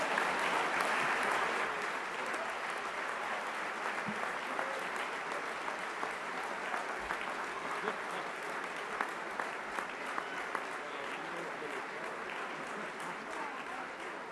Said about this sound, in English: Let's give one more round of applause for Secretary Hillary Clinton.